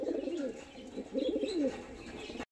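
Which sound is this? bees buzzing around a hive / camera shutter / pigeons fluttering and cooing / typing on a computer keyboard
pigeons fluttering and cooing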